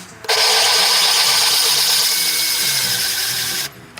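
Engine valves lapped in with grinding compound on a scrapyard Notchback race build, giving a loud, steady rasping grind with a high whine that runs nearly continuously for over three seconds before stopping abruptly, with no talk.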